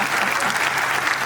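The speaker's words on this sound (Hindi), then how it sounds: "उनके लिए तालियां बजाइए" Dense, continuous applause from a crowd at a Hindi poetry recital, a short, even burst of many clapping hands with no gaps.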